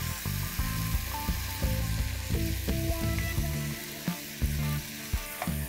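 Squid frying over a high flame in a mushy tomato masala, a steady loud sizzle broken by repeated sharp clacks of a ladle or spatula against the pan, with no voices.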